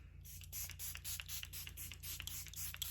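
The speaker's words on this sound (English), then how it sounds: "I do want to use the setting spray from Charlotte Tilbury" Charlotte Tilbury Airbrush Flawless setting spray is misted onto a face in a run of about eight quick, close, hissing spritzes with brief gaps between them.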